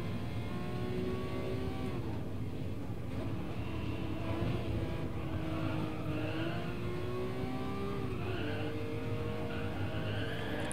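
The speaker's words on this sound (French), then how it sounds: "J'ai baissé un peu aussi le son des crissements de pneus dans le menu." Racing-game tire squeal from Gran Turismo Sport, a 1979 car driven in first-person view: steady loud engine drone with wavering high squeal tones from the tires running continuously throughout.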